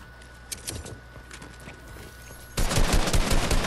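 Gunfire in Fortnite during a zone war match, scattered quieter shots at first, then a loud, rapid burst of automatic fire near the end.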